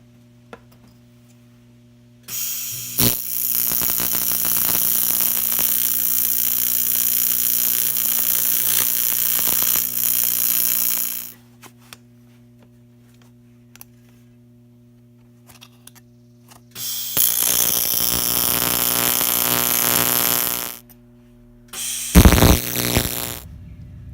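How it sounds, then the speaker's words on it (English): Welding a fitting onto a radiator hose pipe in a garage, with two long bursts of steady crackling hiss and a short final spurt, separated by quiet gaps over a low electrical hum. "So now I'm going to weld this onto the pipe."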